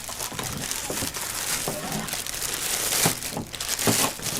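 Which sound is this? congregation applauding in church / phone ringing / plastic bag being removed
plastic bag being removed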